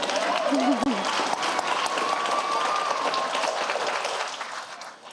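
A school board meeting audience cheers and applauds in a sustained, dense wash of clapping and whoops that holds steady for several seconds before tapering off, with a voice briefly audible over it.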